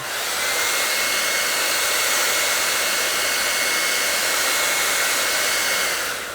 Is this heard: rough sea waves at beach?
no